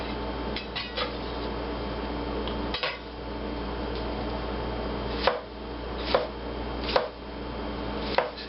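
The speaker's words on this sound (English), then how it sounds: "See how I use that slicing motion?" A knife slicing through meat loaf on a board, one slow cut after another along the blade's length, giving soft repeated scrapes and taps close by, spaced unevenly, with no talk over them.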